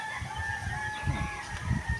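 Chickens in a coop cluck and murmur in low, irregular bursts, with a steady background hum running underneath.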